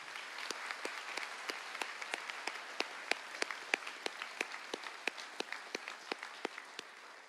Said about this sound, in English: We ask for a round of applause for them as well.